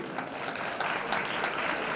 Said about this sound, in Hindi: जोरदार तालियां राघव के लिए